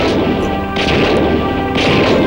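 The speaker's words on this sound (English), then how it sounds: "I'm hearing gunshot everywhere. Yes, I'm hearing gunshot." Gunfire in a drama film, a loud, continuous barrage of blasts and crashes with two sharper bursts of impact standing out, packed densely across the whole stretch and with no voices.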